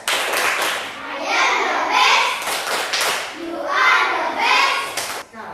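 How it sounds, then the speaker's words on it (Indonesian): Children in an Indonesian primary classroom give a rhythmic group clap cheer, their quick claps mixed with loud chanting young voices that fill most of the clip. "Baik, kita kasih tepuk the best."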